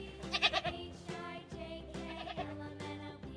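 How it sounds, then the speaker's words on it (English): A goat bleats several times in a row, with wavering, nasal cries that are moderately loud and near, heard alone without any talking. "G is for goat."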